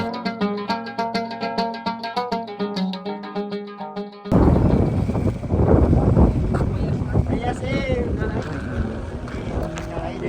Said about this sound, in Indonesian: wih kencang sekali angin